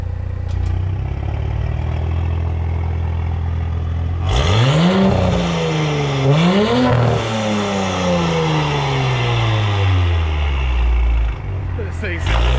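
A B9 Audi S5 with a catless downpipe, front resonator delete and mid muffler delete idles, then revs hard several times with a loud turbo spool and a rising and falling engine note, recorded close up.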